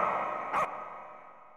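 One short, sharp dog bark cuts in briefly over a steady musical background.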